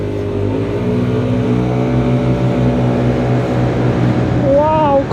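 Two Kymco scooters, a G7 and an RTS, accelerate side by side in a drag race, engines droning and rising steadily in pitch, loud and close, with riders talking over the engine noise.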